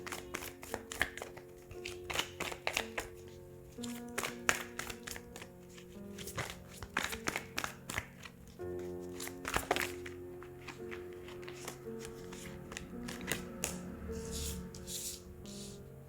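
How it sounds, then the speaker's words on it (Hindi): Tarot cards are shuffled by hand in a run of crisp riffles and taps. The bursts are quiet and come close together, separated by short pauses, over a faint hum in the background. "मैं पहले कार्ड शफल करती हूँ"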